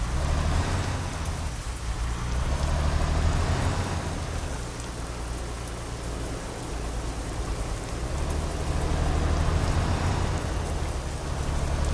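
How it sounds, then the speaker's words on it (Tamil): Steady rain pours down around a truck driving in Euro Truck Simulator 2, a dense, even hiss with a low rumbling drone beneath, continuous and fairly loud for the whole stretch. "அப்படியே மழையை என்ஜாய் பண்ணிட்டே போக வேண்டியதான்"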